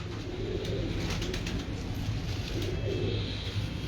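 Pigeons coo in a steady, low murmur that fills the whole stretch, with soft overlapping calls from a flock of fancy pigeons nearby and no talking.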